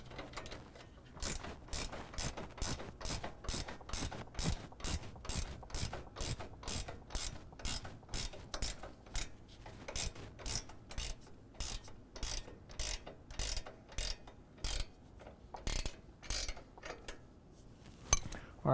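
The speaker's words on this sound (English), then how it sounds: "I've got my 18 millimeter ratchet wrench" An 18 mm ratchet wrench works on the suspension of a 2024 Ford F-150, its pawl clicking in quick, regular bursts of strokes close to the mic, fairly quiet, with no talking.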